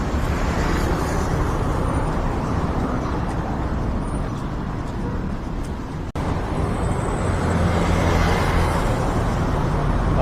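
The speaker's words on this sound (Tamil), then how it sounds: "டிராஃபிக் கம்மியாக இருக்குது இந்த டைமில்" Steady road traffic on a street in Malaysia, a dense continuous roar of cars and buses passing nearby with engine rumble and tyre noise, no talking.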